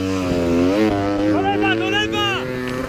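A dirt motorcycle engine revs hard on a steep uphill enduro climb, its pitch rising and falling in loud sustained wails close by, with shouting from onlookers mixed in.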